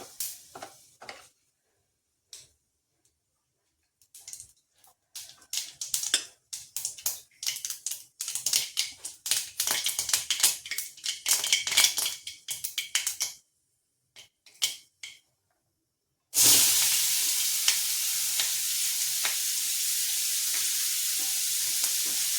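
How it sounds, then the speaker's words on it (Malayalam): Mustard seeds pop in sharp crackles, bursting irregularly, then give way to a loud, steady hiss of sizzling oil as turmeric powder goes in. "ഞാൻ കടുകൊക്കെ ഇട്ട് കുറച്ച് മഞ്ഞപ്പൊടി ഇട്ട്"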